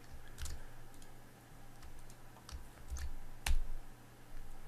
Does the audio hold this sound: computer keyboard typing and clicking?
yes